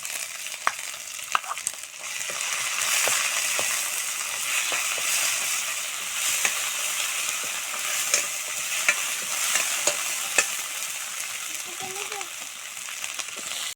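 Onions and cumin paste fry in a pan, giving a steady, close sizzle with scattered stirring scrapes and clicks that runs through the whole stretch.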